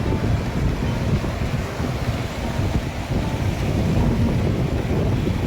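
Roaring floodwater of the monsoon-swollen Tungabhadra river near Hampi, a dense continuous rumble with wind buffeting the microphone, loud and steady with no voices.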